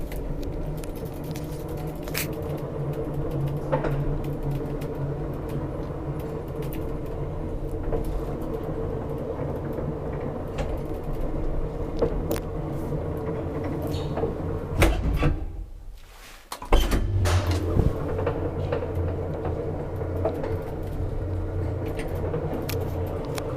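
An old 1960 Kone traction elevator in a Jyväskylä apartment staircase runs with a steady low mechanical hum and rumble, broken midway by clunks and a rattling door operation before the drone resumes, no talking.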